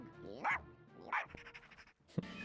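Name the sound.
robot dog Goddard barking in Jimmy Neutron video game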